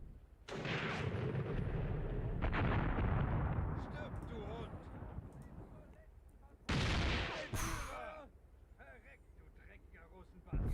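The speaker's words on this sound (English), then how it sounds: "It is truly them opening fire. That is a hell of a noise." Artillery batteries open fire in the WWII tactics game Graviteam Tactics: Mius Front, loud booming blasts and rolling rumble filling the scene, with a second sharp volley near the end while someone talks over it.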